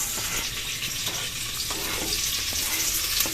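Onion, garlic and ginger sautéing in a large pot for chicken tinola, a constant bright sizzle with scattered clinks and scrapes of stirring close by, with no talk.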